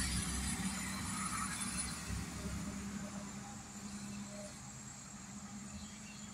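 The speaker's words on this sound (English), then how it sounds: "Here comes another one of the dump trucks." A dump truck picking up storm-fallen tree limbs rolls down a road with a steady low engine rumble and tire noise, loudest at first and then easing slightly as it passes.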